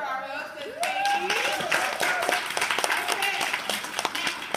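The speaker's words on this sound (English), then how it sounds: "How about a huge round of applause for our hostess, Katie?" An audience of women at a Pure Romance training event breaks into warm applause for the hostess, building quickly to a sustained round of clapping with cheers and voices mixed in.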